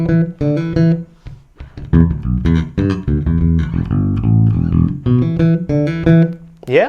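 Electric bass plays a minor pentatonic line, punchy plucked notes in a syncopated funk groove, close and loud, with no speech.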